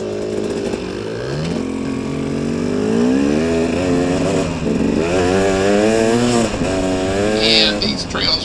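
A KTM 250 and a Kawasaki KDX 200, both two-stroke dirt bikes, ride along forest roads and trails, their engines buzzing loud and close with repeated rising revs and throttle changes.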